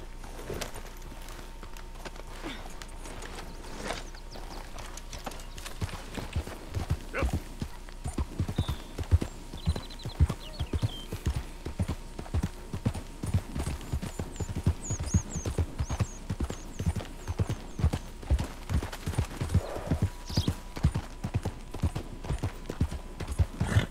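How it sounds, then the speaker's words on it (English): In Red Dead Redemption 2, a horse's hooves clip-clop steadily at a walking pace, starting faintly and growing more distinct after several seconds, over a quiet outdoor ambience, with soft game dialogue in places. "We'll need to go on a horse."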